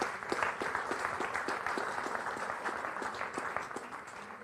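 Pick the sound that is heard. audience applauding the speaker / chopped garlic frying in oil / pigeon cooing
audience applauding the speaker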